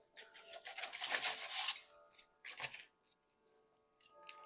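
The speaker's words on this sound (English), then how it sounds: "Let's rub this mustard flavor all over." Hands rub mustard seasoning over pre-smoked Polish ribs, making close, dry rasping and scraping in a dense burst, then a short second burst before going quiet.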